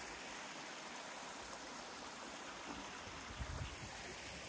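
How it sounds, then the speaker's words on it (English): A stream flows beside the walking path to the Lightspout waterfall in Carding Mill Valley, Shropshire, making a faint, steady, even rush of water with no voices. "there's water pretty much all the way. I'm assuming because you're following a waterfall. And it just sounds beautiful"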